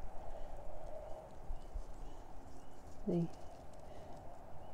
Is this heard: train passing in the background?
no